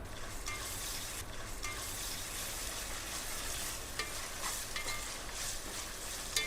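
Onions softened to golden fry with ginger garlic paste in a pan, making a loud, continuous sizzle broken by repeated scraping stirs of a spatula.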